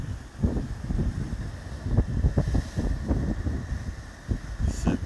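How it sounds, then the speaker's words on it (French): Waves washing along the shore of Lake Michigan, a steady rolling surge roughened by gusty wind buffeting the microphone, with no voices. "Vous avez les vagues."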